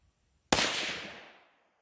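A restored Stevens 44 rifle fires one sharp, loud shot after a brief silence, and the report rings out and decays over about a second outdoors.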